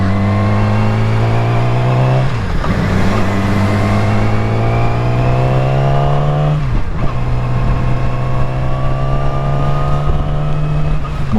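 A Yamaha R6 sportbike runs along a wet road, its high-pitched inline-four engine droning loud and close, rising steadily through the revs with two brief dips as it shifts gears, and no voices.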